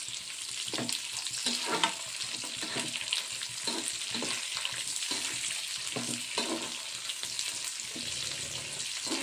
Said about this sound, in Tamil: சின்ன வெங்காயம் போட்டுருவோம். இதையும் நல்லா வதக்கிடுவோம்.